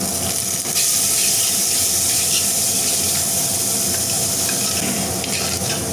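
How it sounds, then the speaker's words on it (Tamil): Onions and tomatoes sautéing in oil for papaya sambar, a loud continuous sizzle and hiss with faint stirring, close and steady throughout. "தக்காளி வந்து நல்லா வதங்கிடுச்சுங்க"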